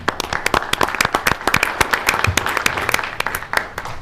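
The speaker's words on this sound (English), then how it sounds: "we ought to give them applause for that" Applause at a city commission meeting for a police flex team, a moderate crowd clapping steadily with crisp, close individual hand claps throughout.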